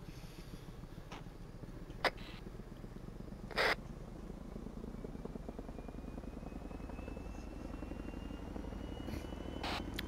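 Chinook helicopter in a video game, its steady rotor drone loud and continuous throughout, with a couple of brief sharp clicks or thumps mixed in over the engine noise.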